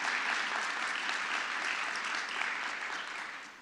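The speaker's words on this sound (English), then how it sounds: "Quick clap." Audience applause welcoming new board members at a Jewish Family Services annual meeting, a steady wash of many hands clapping for a few seconds before tapering off, with no talk over it.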